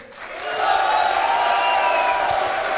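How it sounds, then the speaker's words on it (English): A crowd at a Dutch StarCraft League finals closing ceremony applauds and cheers for the champion. The sustained applause swells within the first half-second and then holds loud and steady. "Ladies and gentlemen, a big round of applause, please."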